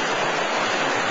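Steady, dense rush of a waterfall in the Great Smoky Mountains, a continuous broadband roar that holds even and loud throughout with no voices.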